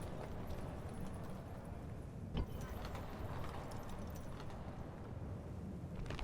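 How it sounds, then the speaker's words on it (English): Cavalry hooves from Sassanid horsemen in the Rome: Total War Barbarian Invasion video game, a steady dense clatter of many galloping horses under continuous battlefield noise, with one sharper thud partway through. "These horses are not immortals, but they're definitely dangerous."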